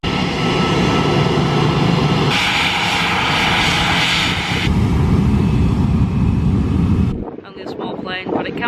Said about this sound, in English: we've got a plane on the runway over there, so there are still plenty taking off and coming back